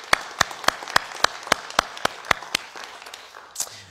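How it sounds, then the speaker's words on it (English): Sparse, rhythmic clapping from a small conference audience, about a dozen sharp, evenly spaced claps standing out clearly over a quiet room. "I'd like to give Wendy and Julian a round of applause"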